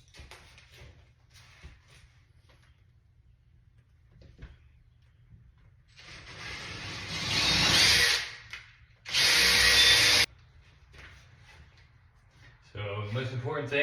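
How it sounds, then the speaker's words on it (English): A power drill bores into an IKEA drawer-door board, easing slowly in and out in two short bursts against a quiet background with faint rustling between them. "I'm going slowly in and out until I feel like it's at least 5/8 of an inch into this board"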